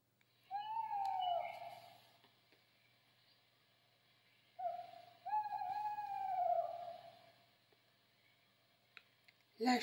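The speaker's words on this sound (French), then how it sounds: "La chouette Hulotte attend la nuit pour s'envoler." A tawny owl hoots in two clear, descending, wavering calls separated by a pause, fairly close and alone against a quiet night background, with a faint click at the end.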